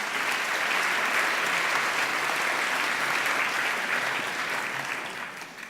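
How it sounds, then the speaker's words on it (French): An audience gives sustained applause for Véronique, a thick, even roar of many clapping hands that holds steady for several seconds before tapering off. "je voudrais qu'on l'applaudisse"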